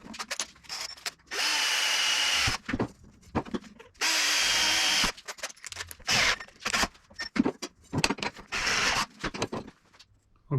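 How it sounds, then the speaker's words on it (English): A power drill boring holes for car brackets, several loud whirring bursts of a few seconds each, separated by clattering, tapping and handling noises, close up with no talking. "let's drill some holes"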